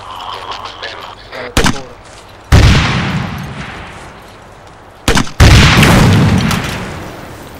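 Gunfire in the Arma 3 combat game, set in an Afghan village: loud, sharp shots at close range come in a few separate bursts, each ringing out briefly over a steady background.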